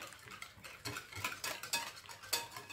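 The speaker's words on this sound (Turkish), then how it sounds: "Tekrar malzemelerimizi çırpalım." A whisk clinks rapidly against a bowl while gülüt cake batter of oil, milk and other ingredients is beaten, a quick irregular metallic tapping and scraping heard up close.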